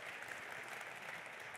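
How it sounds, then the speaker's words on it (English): Faint, steady applause from a room at a Phoenix Suns press conference introducing the team's new controlling owner, a brief even patter with no voices over it. "can we give them a round of applause for putting this all together?"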